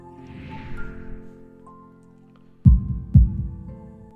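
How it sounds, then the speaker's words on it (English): Two loud, deep heartbeat thumps sound in quick succession near the end, a heartbeat sound effect in the Katawa Shoujo visual novel, following soft ambient music. "That's a classic stroke heartbeat if you ever heard one"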